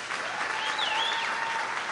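A crowd applauds at a show-and-lecture held in an engineering school, giving a steady, fairly faint wash of clapping with a thin whistle rising and falling above it.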